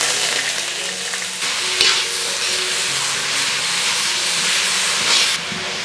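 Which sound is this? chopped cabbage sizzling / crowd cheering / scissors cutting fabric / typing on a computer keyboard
chopped cabbage sizzling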